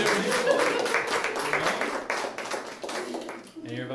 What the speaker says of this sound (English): How about a little round of applause?